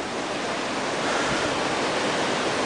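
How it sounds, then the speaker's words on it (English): Steady broadband rush of creek water flowing into a low river, a continuous close whoosh with wind-like texture and no voices. "There's the water coming in off the creek"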